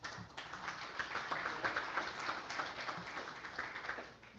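Audience applause at a community school board candidate forum, a quiet, steady patter of many hands clapping for several seconds with no voices.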